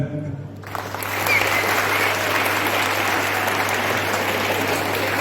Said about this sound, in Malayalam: ഇത് പറഞ്ഞിട്ട് നിങ്ങൾ കൈയടിക്കാനൊന്നുമില്ല.